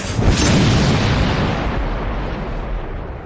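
Booming fireworks in an anime episode burst loudly near the start, then a broad rumbling wash of crackle and echo slowly fades over a few seconds.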